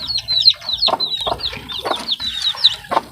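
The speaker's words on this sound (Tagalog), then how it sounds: "Nasa 3 days na po itong mga sisiw natin." A group of three-day-old chicks cheep rapidly and close by, their high peeps mixed with a few lower clucks, steady and busy throughout with no voices.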